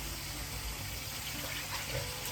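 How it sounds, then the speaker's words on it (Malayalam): Water poured into a simmering cucumber and drumstick curry in a pot, a soft, steady rushing gush that stays even and faint for a couple of seconds with no talking. "കുറച്ചും കൂടെ വെള്ളം ഒഴിക്കാം."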